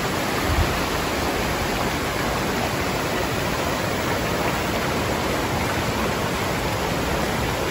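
A mountain river flows in the Sierra Madre, a constant broadband rush of water, loud and close, steady throughout with no voices.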